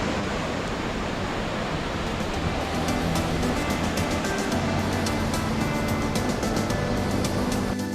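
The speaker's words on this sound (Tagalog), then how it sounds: "Ito ay isa sa mga waterfalls na nakikita ng karamihan sa Camp Aplaya." Waterfall on the Mount Halcon trail near Camp Aplaya, a steady, dense rush of falling water that fills the whole clip at an even, loud level with no voices.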